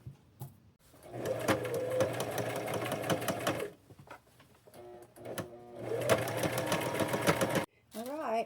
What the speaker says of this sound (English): I will take it to my machine, and then I will sew the sides together